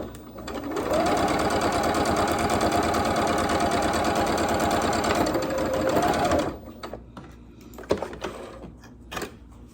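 A sewing machine runs in one steady, fast burst for about six seconds, stitching a quilt block to sashing with a quarter-inch seam, then stops, leaving small handling clicks and rustles.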